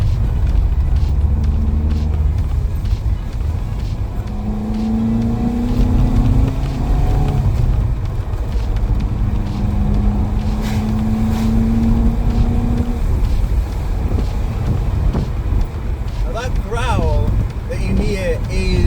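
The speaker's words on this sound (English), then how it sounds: "Induction kit, and that is the sound that's deafened by the stock airbox" A car fitted with a cold air induction kit drives along, its engine droning loud and close with a steady rumble and rising, shifting tones as it revs.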